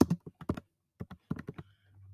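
Keys tapped on a Chromebook keyboard in small quick clusters with pauses between them, close, dry and fairly quiet, followed by a faint low hum.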